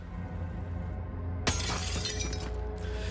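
Glass shatters loudly as soldiers burst through it in the tactical strategy game Xenonauts 2, a sudden bright crash midway followed by trailing tinkling debris over a steady background game hum.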